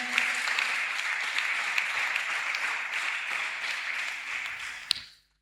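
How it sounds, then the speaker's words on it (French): A church congregation applauding to acclaim God, with sustained steady clapping and cheering that holds loud and even before cutting off abruptly at the end. "On peut acclamer Dieu pour eux."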